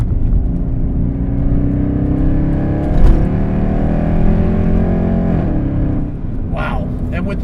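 A 2009 Mercedes C63 AMG engine revs while driving, a loud, continuous V8 drone that rises and falls in pitch from inside the car.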